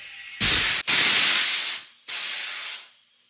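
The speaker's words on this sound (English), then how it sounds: "that's that poofing noise you hear every once in a while, getting rid of the excess pressure" A pneumatic transmission fluid pump's pressure regulator vents excess air in three sharp hissing bursts in quick succession, the first a loud brief blast, the next two longer and fading out.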